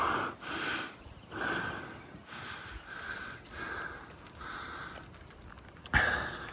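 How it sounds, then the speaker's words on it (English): A hiker breathes heavily and rhythmically on the final steep climb up a four-wheel-drive track to Mount Remarkable, each close, loud huff and gasp repeating about once a second, ending in a sharper exhale. "Excuse the heavy breathing"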